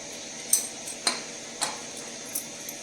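Spinach being mixed into cooked dal, a few spaced clinks and scrapes of a spoon against the pot, close and fairly clear, about four strokes with quiet gaps between.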